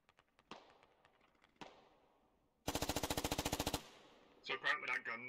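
Gunfire in the video game Squad: a few sharp isolated shots, then a fast, loud automatic burst of about a dozen rounds in even rhythm, followed by someone talking over the radio.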